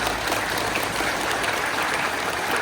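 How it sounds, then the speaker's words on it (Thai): Students at a school new-staff introduction event applaud to welcome two new teachers, a loud, dense, continuous wash of clapping filling the space. "ขอให้นักเรียนทุกคนนะคะได้ปรบมือต้อนรับคุณครูทั้งสองท่านอีกครั้งหนึ่งค่ะ"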